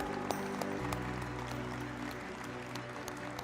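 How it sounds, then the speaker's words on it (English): An audience claps at a stock-exchange listing ceremony as teams walk to the stage, giving a steady patter of applause with a few sharper nearby claps over a low background hum. "Keep the claps going, everyone."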